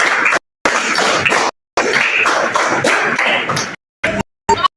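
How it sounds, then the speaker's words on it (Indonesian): Children in a classroom clap their hands in a rhythm game, a run of loud crowded claps in groups, then a few shorter bursts separated by silences. "Tepuk 5 2 kali."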